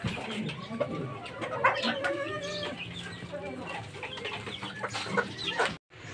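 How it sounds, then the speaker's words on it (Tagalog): A flock of Talisay gamefowl chickens clucks continuously nearby, with soft high peeping of newly hatched chicks mixed in and a busy, overlapping farmyard chatter. "Ayan ang bago namin sisiw ngayon."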